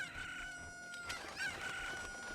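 Faint chicken clucks and a short crowing call from the Ocarina of Time Randomizer video game, sounding thin and game-like over a quiet background.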